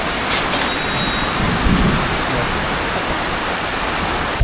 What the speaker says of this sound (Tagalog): kita nyo naman ang lakas ng ulan